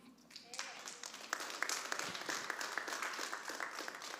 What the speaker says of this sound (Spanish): Dese un aplauso que vino al culto.